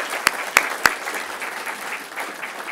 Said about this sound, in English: So please, a round of applause for the R project.